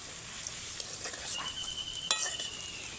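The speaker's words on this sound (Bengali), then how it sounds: "এগুলোও ভাজার জন্য সময় দেব" Steady sizzle of nimki (flaky fried dough snacks) frying in oil, bright hissing crackle and a few sharp pops, close up, continuous throughout with no voices.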